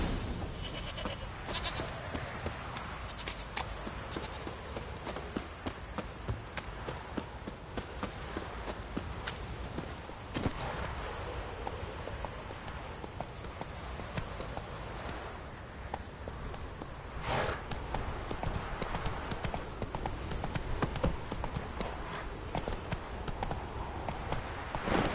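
Roach the horse galloping in The Witcher game, a steady fast clip-clop of hooves over a dense rumbling bed of ambient sound, continuing without pause and without voices.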